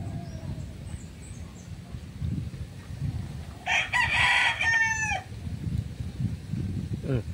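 A gamecock rooster crows once loudly and close, a drawn-out call with a falling tail, over steady background murmur and faint clucking from other fowl.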